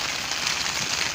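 Rain drums on a rooftop garden of potted plants, a short, even rush of noise that stays steady and near, with no voices.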